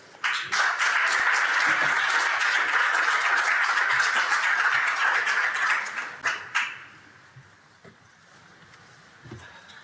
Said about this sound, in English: A round of applause for him again, please